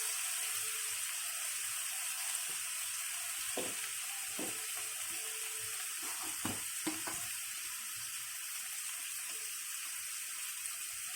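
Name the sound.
frying masala with chili powder in a pan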